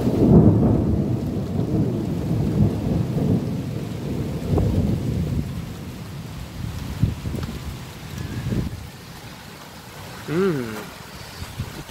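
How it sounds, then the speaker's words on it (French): Thunder from a nearby lightning strike in a summer storm with strong gusts in Meyzieu rumbles deep and loud at first, then rolls off over steady rain while someone speaks briefly near the end. "il y a eu un coup de foudre là. Très proche là"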